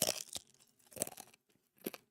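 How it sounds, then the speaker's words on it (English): Crunchy bites and chewing of homemade tortilla chips fried from stale tortillas, some extra crispy, three loud close crunch bursts with quieter chewing between, no talking. "I don't know if you can hear that crunch or not."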